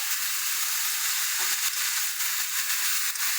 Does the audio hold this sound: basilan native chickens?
no